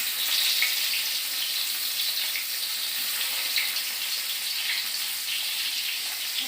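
Nigella seeds and chopped onion frying in hot oil, a steady broad hiss of sizzling that holds loud and even throughout without pause.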